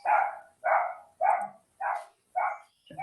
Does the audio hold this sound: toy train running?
no